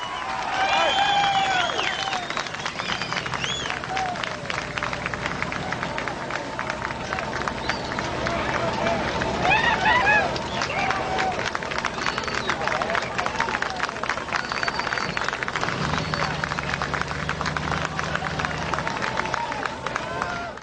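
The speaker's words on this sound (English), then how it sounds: "I'm beginning to hear a cheer or two now." Crowd gathered at the rescue of a young girl from a well in Midland, cheering and clapping throughout, with a steady patter of applause and scattered whoops mixed with voices and babble.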